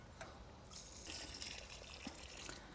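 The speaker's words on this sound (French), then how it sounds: "un peu d'arrosage, enfin beaucoup d'arrosage" Water gushes and trickles onto a newly planted grapevine, a steady close splashing pour that swells after the first second and continues to the end.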